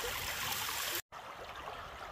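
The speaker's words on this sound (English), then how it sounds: "All I can hear is this creek right now" A forest creek in Uwharrie National Forest flows steadily, a soft continuous trickling and babbling close by, briefly cut out by a short silent gap before resuming.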